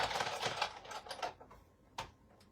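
A die cutting machine cuts out cardstock, giving a quiet run of rapid mechanical clicks and ticks that fades, then a single sharp click near the end. Nobody speaks.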